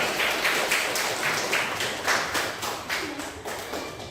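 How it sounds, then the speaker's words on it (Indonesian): A classroom audience of students claps, a moderate scattered burst of hand claps with uneven rhythm that rises and fades slightly, heard fairly close. "Tepuk tangan untuk kalian semua."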